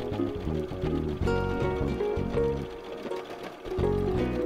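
Sewing machine stitching a quilt border and corner stones for a meditation mat, running in a fast rhythmic mechanical chatter with short pauses and restarts, close and continuous.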